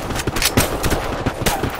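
Gunfire in the shooter game Black Squad comes as dense, loud rapid bursts of shots that fill the whole moment.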